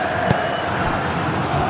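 Corinthians supporters fill a stadium during the 2022 Copa do Brasil final against Flamengo, a steady distant crowd roar and chanting running throughout under faint background sound.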